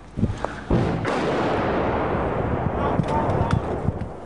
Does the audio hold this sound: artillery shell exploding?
yes